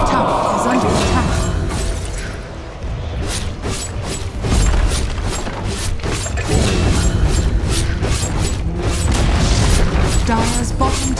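Booming, crumbling structural destruction of a tower in Dota 2, dense and loud with rumbling low-end impacts and debris clatter running throughout, layered with other game effects and a voice speaking.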